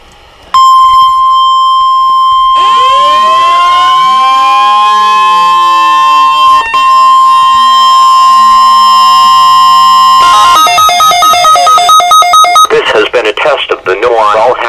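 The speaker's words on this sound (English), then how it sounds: "All hazards weather radio alarm system." A NOAA weather radio alarm tone for the required weekly test sounds as a loud, steady, piercing single-pitch tone for about ten seconds over sweeping, siren-like tones, then gives way to rapid, chattering, buzzy data bursts.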